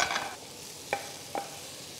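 Sauce hits mushrooms stir-frying with garlic in a hot pan, giving a brief hiss at first, then a faint steady sizzle broken by two soft scraping stirs.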